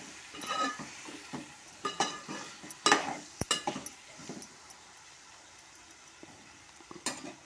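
A spice mixture being stirred into a frying curry-leaf tempering, with irregular spoon scrapes and clinks against the pan over a soft, faint sizzle.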